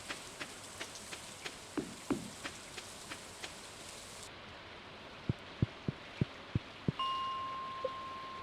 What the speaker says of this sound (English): Like that rain noise. It's like a little ghost taunting me.